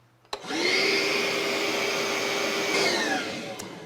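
A Ryobi bucket top wet/dry vacuum switches on with a click and runs on the floor about three feet away, a loud steady whine that holds, then drops slightly in pitch and level near the end.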